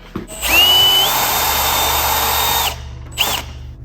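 A power drill driving screws into boards with a Kreg jig: one long, loud whirring run with a rising pitch as the screw seats, then a second short burst after a brief pause.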